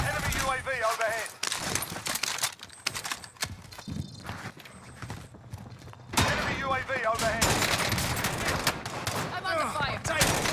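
Video game gunfire from an online shooter match, with bursts of shots and clattering impacts scattered through the clip, loud at times and fainter in between, under busy game effects and voice lines.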